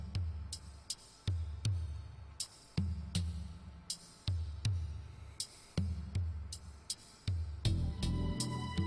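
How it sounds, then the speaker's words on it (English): A steady, looping electronic jukebox tune in the game VA-11 HALL-A, with a thumping low beat and bright ticking accents, playing on its own at moderate volume. "Jukebox time!"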